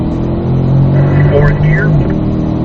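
A Corvette engine revs and pulls hard as the car accelerates through a driving-school track course, with a steady mid-pitched drone rising in tone. An instructor's voice talks over it throughout.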